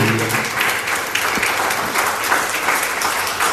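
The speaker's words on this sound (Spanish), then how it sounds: "Démosle un aplauso fuerte al Maestro." A church congregation applauds steadily during a Spanish-language worship service, a dense, even wash of clapping that fills the whole moment with no speech over it.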